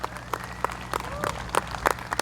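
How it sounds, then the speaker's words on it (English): Scattered clapping from an audience at a Libertarian political rally in Newport News, Virginia, heard as sparse, distinct claps spaced irregularly, fairly faint against room noise with a whistle-like tone drifting in. "Give yourselves a round of applause."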